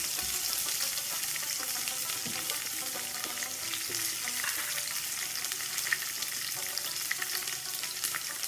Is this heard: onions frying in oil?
yes